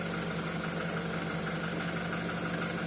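A BMW N20B20 engine in an X3 F25 idling shortly after a cold start, with a steady mid-pitched hum and faint ticking knock running continuously throughout.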